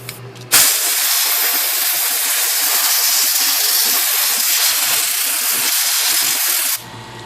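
Compressed air blasts lacquer thinner off a vintage Royal QDL typewriter: one loud, steady, close hiss that holds for about six seconds before cutting off abruptly.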